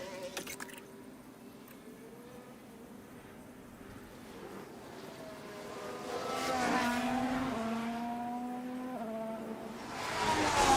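Formula 1 race cars in F1 Manager 24, with the whole field out on track at the Canada circuit, engine notes rising and shifting in pitch as cars pass, building louder toward the end over a steady background drone.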